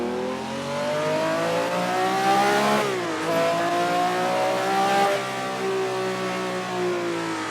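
Car engine droning steadily while being driven through corners, pitch rising and dipping as revs change through gear shifts, loud and continuous with no talk.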